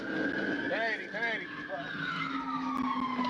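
A Dodge Charger R/T engine revs and roars during a police pursuit, under tires squealing, with excited voices talking over the steady motor drone.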